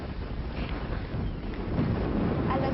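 Wind blows steadily outdoors during an outdoor game-show challenge, a broad, rumbling gust noise buffeting the microphone that swells slightly toward the end, with no talk.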